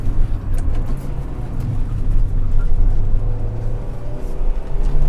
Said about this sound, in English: Practice just rev matching, no heel and toe.